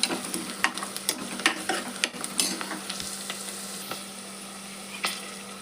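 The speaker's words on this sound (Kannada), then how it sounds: "ಆಮೇಲೆ ಮೆಣಸಿನ್ಕಾಯಿ ಹಾಕ್ತೀನಿ ರೀ. ನೋಡ್ರಿ, ಇವನ್ನ ಕೈ ಹಾಕ್ತೀನಿ ಎಣ್ಣೆ ಒಳಗೆ" Green chillies fry in hot oil in a home kitchen, a steady sizzle broken by sharp spatters and stirring scrapes, close and alone with no talk.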